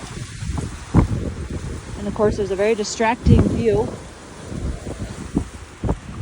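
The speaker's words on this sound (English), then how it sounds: "this is friggin' windy" Strong, freezing wind roars and buffets the microphone while someone talks over it on an exposed desert mountain trail near Montezuma Pass, Arizona, the gusts rising and falling throughout.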